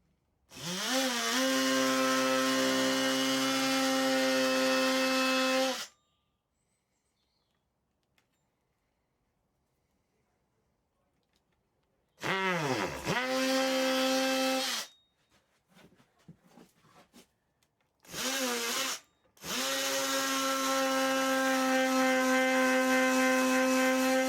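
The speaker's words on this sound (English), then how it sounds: "Okay, so just cut it out with this reciprocating saw." Reciprocating saw cutting into a Squier Bullet Mustang guitar body, loud buzzing bursts as the motor revs up and runs, in three separate runs broken by quiet pauses and short handling noises.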